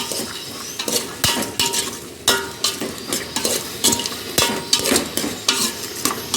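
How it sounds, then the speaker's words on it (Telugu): Cut potatoes and green peas being stirred into vegetable pulao in a hot pan, with a spoon scraping and clinking in repeated strokes over a steady sizzle, close and loud, no talking. "పచ్చి బఠానీ, గ్రీన్ పీస్ అన్నీ వేసుకొని కలిపెట్టుకోవాలండి"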